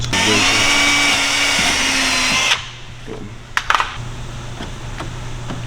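A power drill drives a body fastener screw into the valance and quarter panel of a K-swapped Kouki S14, a loud close whine for about two and a half seconds, then stopping, followed by a few sharp clicks and clatter.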